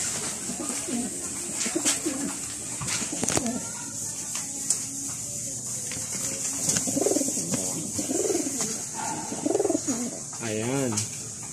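Pigeons coo in repeated soft, rolling phrases at moderate distance, kept as pets in a backyard loft with a landing board, over steady outdoor background noise.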